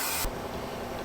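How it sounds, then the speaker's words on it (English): A short, loud hiss of cooking oil spray coating a loaf pan bursts for a quarter second, then gives way to quiet background noise. "Prepare the pan by spraying some cooking oil."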